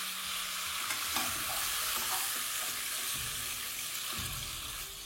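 Cauliflower florets fry in hot oil in a pan, a steady close sizzle with scraping stirs and occasional clinks from the spoon throughout.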